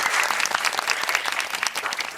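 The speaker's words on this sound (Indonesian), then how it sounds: "Boleh kasih tepuk tangannya?" An audience at a North Sumatra youth forum event claps together, a dense, steady burst of applause from a crowd, loud and close with no talking.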